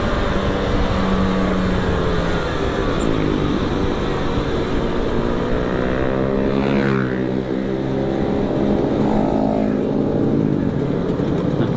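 A loud motorcycle engine revs continuously, its deep throaty tone rising and falling in pitch, with a noticeable rev swell partway through; no talking.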